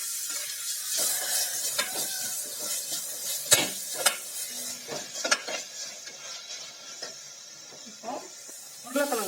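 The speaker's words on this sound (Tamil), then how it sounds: "மிளகாத்தூள், தனியாத்தூள், பட்டை கிராம்பு தூள் இது மூணுத்தையும் ஒன்றா சேர்த்துடலாம். இதையும் நல்லா வதக்கிடலாம்." Chili powder, coriander powder and cinnamon-clove powder sauté in a pan with a soft, intermittent sizzle and frequent scraping stirs, close up. A voice is briefly heard.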